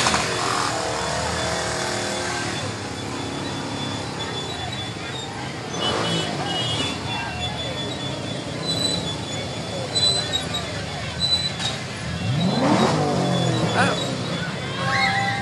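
Vehicles revving their engines in a 2010 Fourth of July street parade, heard amid crowd chatter and voices, with one engine swelling into a louder rising rev near the end.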